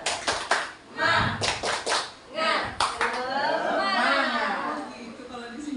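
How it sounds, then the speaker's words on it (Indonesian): A group in a school workshop session claps a rhythmic spirit chant, sharp patterned bursts of hand claps near and loud, followed by a softer sustained clapping wash. "Tepuk semangat."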